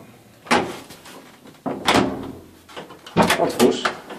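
An old lift's door in Łódź is opened, with three loud clattering bursts of metal sliding and banging, close by, alongside faint background voices.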